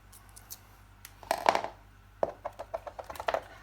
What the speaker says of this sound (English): Now to cut, I've got my nice sharp titanium scissors.